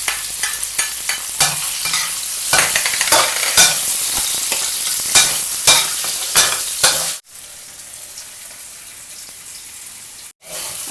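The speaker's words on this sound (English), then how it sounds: "Stir fry until it's crispy and golden, and shallot in there." Tofu and shallot stir-frying in a hot pan, loud steady sizzling broken by repeated scraping strokes of a utensil, with two brief silent gaps near the end.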